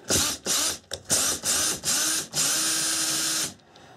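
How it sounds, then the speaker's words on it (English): A power drill whirs in several short bursts followed by one longer sustained run through drywall, loud and close, with brief pauses between the bursts. "taking your old drill, lining her up with the hole you made"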